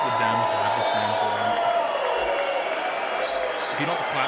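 Applause at a State of the Union address, a crowd's steady clapping and cheering held under a voice talking over it, continuous and moderately loud throughout.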